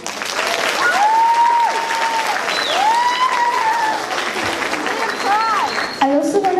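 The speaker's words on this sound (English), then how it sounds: "he deserves a big round of applause" Steady, loud applause fills the room at a sixth grade promotion and trimester awards ceremony, a dense crowd of clapping that holds for several seconds with a few whistles and cheers rising above it.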